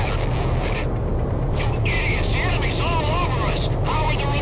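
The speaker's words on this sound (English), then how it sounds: "Takeoff complete." A jet aircraft takes off in Ace Combat 6, its engine a steady, loud roar throughout, with radio chatter layered over it.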